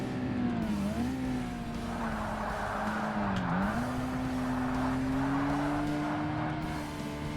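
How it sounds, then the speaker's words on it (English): Engine of a Mazda Miata in Forza Motorsport on Xbox, droning steadily at high revs and bouncing against the rev limiter as the pitch dips and recovers, loud and continuous with no voices. "Rev limiter."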